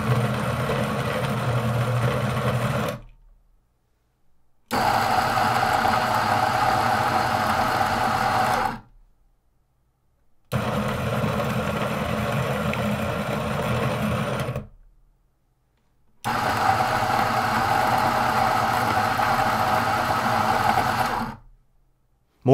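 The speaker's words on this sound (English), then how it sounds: "Sound levels when grinding are higher on the Duo due to these larger burrs and the faster 530 RPM" A Niche Duo coffee grinder with large burrs spinning at 530 RPM grinds beans in four runs of about four seconds each. Each run is a steady, even low hum, and short silences separate them.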